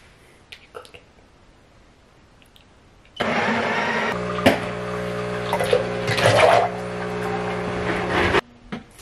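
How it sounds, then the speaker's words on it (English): After a few quiet seconds an espresso machine starts up in a home kitchen, a loud steady mechanical hum with hissing and grinding that runs about five seconds and then cuts off abruptly. "We're about to start the espresso machine, and it doesn't know how to be quiet."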